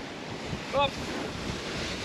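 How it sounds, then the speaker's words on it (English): Ocean waves and wind roar steadily around a sailboat heading upwind on a passage to New Zealand, with a brief high whistling tone midway through. "we have still upwind with some waves"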